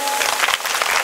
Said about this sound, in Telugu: గట్టిగా చప్పట్లు, గట్టిగా.